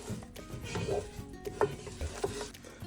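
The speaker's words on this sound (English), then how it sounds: "So the key with any roux is we have to keep moving and keep stirring it so we don't burn it." Flour and butter roux cooked down toward blonde, stirred continuously in a pan: quiet, irregular scraping strokes with soft sizzling and occasional light utensil knocks.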